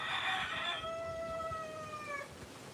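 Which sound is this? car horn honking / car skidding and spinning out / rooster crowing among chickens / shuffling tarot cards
rooster crowing among chickens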